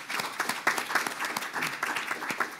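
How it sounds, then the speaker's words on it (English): Audience applause at a conference keynote address, a steady crowd of hands clapping throughout with dense overlapping claps, fairly loud and close, no voices rising above it. "Let's give them a hand."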